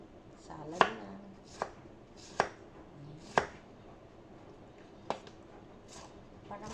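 Eggplant sliced thinly with a knife on a cutting board for a vegetable salad, giving six or seven separate crisp chops spaced irregularly, close and fairly quiet.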